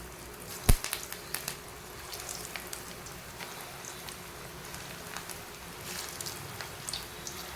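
Mutton kola balls fry gently in hot oil over a low flame, giving a soft, steady crackle with one sharp pop near the start and scattered faint spits after it.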